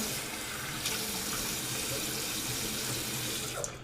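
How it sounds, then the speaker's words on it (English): Tap water runs steadily into a sink as alum is rinsed off the face, a continuous close splashing stream with no talking. "Alright, we're going to wash off the alum."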